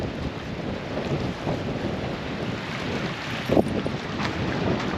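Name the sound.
strong wind at the seaside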